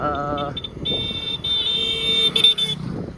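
A vehicle horn honks in a few sustained blasts amid road and engine noise, fairly close and loud.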